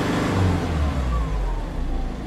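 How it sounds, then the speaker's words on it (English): A Force Gurkha Xtreme 4x4's engine revs loud and close, a steady low rumble that swells early and then holds a deep, slightly rising drone throughout. "And even while revving, the amount of torque from the engine is just shaking the car like this."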